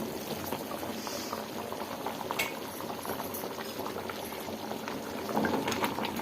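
Chicken saaru curry bubbling in a pot after ten minutes of cooking, a dense continuous boiling gurgle with faint pops, steady and close, swelling slightly louder near the end, with no talk.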